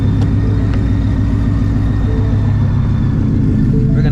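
A supercharged 900 hp Shelby GT350 on E85 with an ESS G3R kit and 110 mm pulley idles or cruises with a loud, steady low engine drone, heard from inside the car.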